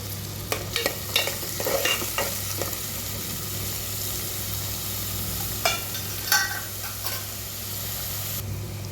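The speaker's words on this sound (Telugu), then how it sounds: "ఓన్లీ పచ్చిమిర్చి వేసిన తర్వాత కొంచెం గోల్డెన్ కలర్లోకి వచ్చేలాగా వేయించుకోవాలన్నమాట" Green chilies frying in a pan for a Telugu-style raw prawn curry, giving a steady close sizzle with scattered stirring clatters and scrapes throughout, no voices.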